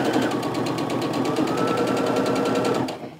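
A sewing machine stitches quilt fabric strips together with a rapid, steady mechanical chatter, close and loud, running continuously for about three seconds before stopping abruptly.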